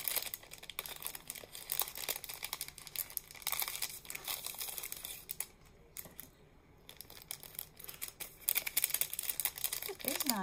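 Decorative paper bows are handled and crinkle in quick, bright, scratchy bursts through most of the clip, close and fairly soft, with a brief quiet pause in the middle.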